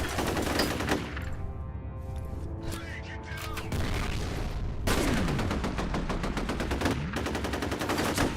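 Gunfire from the shooter game F.E.A.R., set to extreme difficulty, with dense rapid automatic bursts that break off briefly and then resume, layered with ringing game music and effects.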